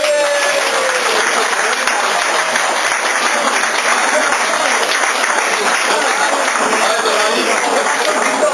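Sustained applause from a crowd at the close of a tournament fills the room, dense and continuous clapping at steady loudness from start to finish.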